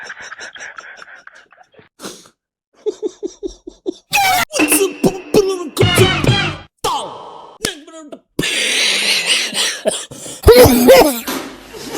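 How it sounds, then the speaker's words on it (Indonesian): Several bursts of harsh coughing and throat clearing from a person with a lingering cough, scattered between pauses, close to the mic and mixed with laughter and talk. "Udah dibilang aku masih batuk, nggak bisa loh"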